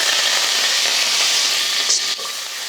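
Curry leaves dropped into hot oil with fenugreek and peppercorns for eggplant kuzhambu, a loud steady hissing sizzle close up with a small spatter burst near the end.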